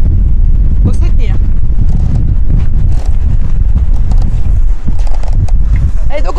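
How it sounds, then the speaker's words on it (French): Strong wind of about 20 knots buffets the microphone aboard a boat at sea between Martinique and Dominica. It is a loud, continuous low roar with gusting surges throughout, and voices are faintly present. "il y a 20 nœuds de vent là"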